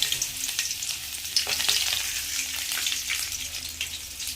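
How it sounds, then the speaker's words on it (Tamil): Chopped ginger and garlic fry in well-heated oil for an okra curry, producing a loud, steady, hissing sizzle with faint stirring scrapes throughout and no speech. "இப்போ நல்லா ஹீட் ஆகிட்டு அதில் நம்ம கட் பண்ணி வச்சுருக்க இஞ்சி பூடு இதெல்லாம் போட்டுடலாம்"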